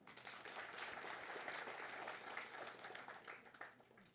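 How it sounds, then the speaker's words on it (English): Quiet, close clapping from an audience at an event handing equipment over to youth swells and then tapers off over a few seconds, with a few sharp individual claps standing out near the end. "I want us to give that a round of applause"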